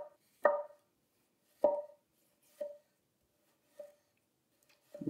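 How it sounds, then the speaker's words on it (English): A nakiri knife slices through a potato, giving five crisp chopping strokes against the board at roughly one-second intervals, close and distinct in an otherwise quiet kitchen. "Good old potato with the Nakiri"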